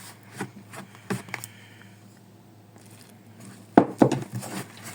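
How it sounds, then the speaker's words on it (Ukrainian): A spoon scrapes and knocks around a bowl in irregular bursts, quickly mixing dough made with boiling water, close up, with a couple of louder clatters near the end. "Заливаю кип'ятком, швиденько замішую тісто ложкою, тому що гаряче."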